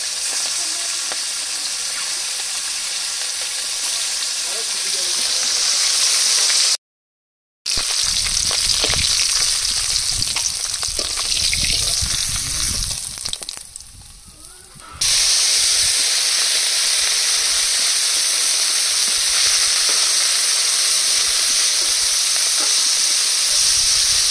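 Small mourala fish fry in mustard oil in a village kitchen karahi, a loud steady sizzle and hiss running throughout, broken by a brief gap of silence and a quieter stretch before the crackle surges back to full strength.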